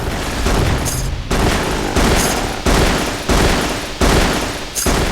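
A rifle fires in loud, dense bursts in the castle dungeon of the video game Frater, with several evenly spaced volleys of rapid shots and brief gaps between them, and no talking over the gunfire.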